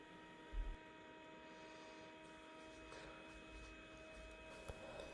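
A Creality Space Pi filament dryer runs with a faint, steady electrical hum and a low whirr, quiet and constant, with a couple of soft bumps.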